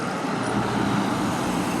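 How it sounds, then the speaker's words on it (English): A green truck rumbles steadily through Main Street traffic with a continuous low engine and road drone, close by and fairly loud, with no voices. "I call this green truck the Green Machine."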